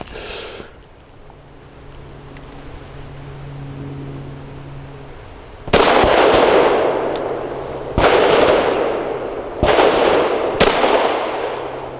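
Arex Delta X pistol fired at a shooting range: four loud sharp shots spaced about two seconds apart, each ringing briefly, after a stretch of quiet background hum.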